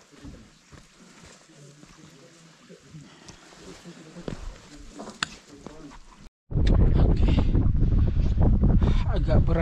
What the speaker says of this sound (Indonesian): Berangin.